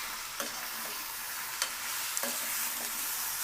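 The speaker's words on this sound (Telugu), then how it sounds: "చికెన్ వేసుకొని బాగా కలియబెట్టండి." Marinated chicken stirred into a pan of softened tomato and onion for a Chettinad chicken gravy, giving a steady close sizzle broken by a few sharp scrapes of the spoon.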